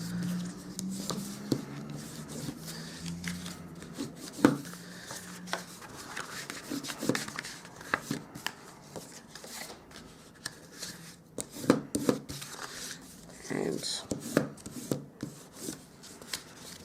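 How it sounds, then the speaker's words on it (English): A bone folder folds and burnishes score lines on cardstock, making intermittent dry rubbing and scraping strokes with small taps, close and fairly quiet. "I'm just going to now fold and burnish on all of the score lines"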